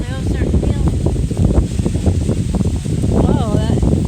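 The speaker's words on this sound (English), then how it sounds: "Whoa, that's pretty windy." Strong wind gusts outdoors at a nature park roar and buffet the microphone, with voices talking over the rushing noise throughout.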